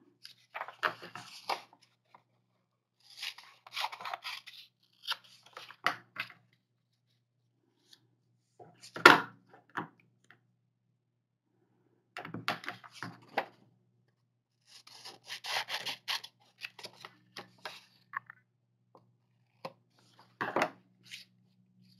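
Scissors snipping paper for a collage in short, quiet bursts of cutting and rustling, separated by pauses, close and alone.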